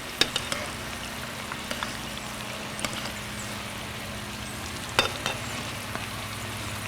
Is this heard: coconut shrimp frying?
yes